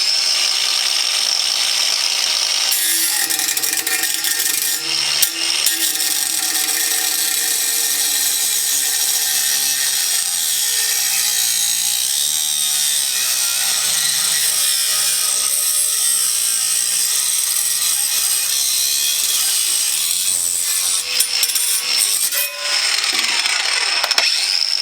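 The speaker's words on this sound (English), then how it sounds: "let's just try the Craftsman and see how this does" A Craftsman angle grinder with a small, worn-down wheel cutting, a loud continuous whine with shifting grinding tones that holds for most of the stretch after a short quieter start.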